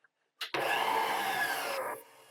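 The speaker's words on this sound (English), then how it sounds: "In the mixer, and we're going to let it blend up for about 3 minutes." A stand mixer blends cookie batter for black and white cookies, starting after a short click with a loud steady whirring drone that runs evenly for about a second and a half before its pitch drops as it slows.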